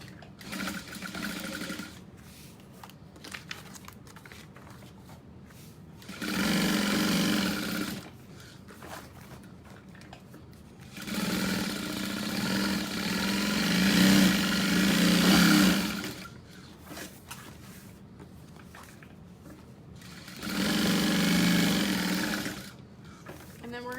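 A sewing machine stitches down the sides of a tote bag in three bursts of steady motor whir, each lasting several seconds, separated by quiet pauses.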